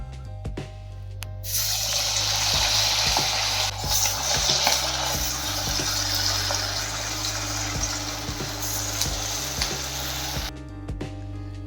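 Chicken pakora fries in hot oil in a kadhai with a continuous close sizzle, dotted with light clinks and stirring sounds, and no one speaks.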